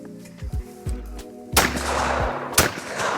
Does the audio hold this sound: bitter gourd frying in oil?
no